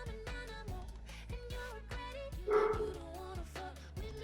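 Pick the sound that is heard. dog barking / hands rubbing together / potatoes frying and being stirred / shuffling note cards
dog barking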